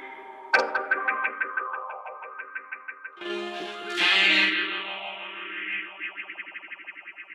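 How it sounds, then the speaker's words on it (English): Dub mix run through tape echo and a phaser, with sharp hits that repeat in decaying echo trails, then a swelling, sweeping phased wash that fades back into rhythmic repeats, with no voices. "when you add the phaser to it, you add a nice liquid, sort of panning stereo warmth to it"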